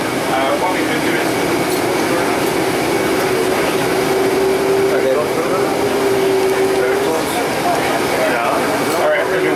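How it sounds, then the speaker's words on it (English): A taxiing airliner's older-model engines drone at an international airport apron, a loud steady broadband roar with a faint sustained whine, continuous throughout the clip. "The older engine, you can hear the noise of it moving."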